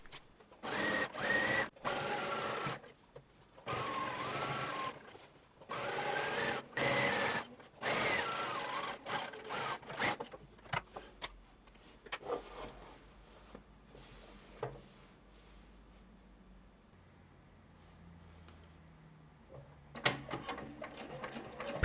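Sewing machine stitching a skirt seam for a shirtwaister dress, running in several loud bursts of steady whirring separated by short pauses, then quieter handling noises and a final brief run.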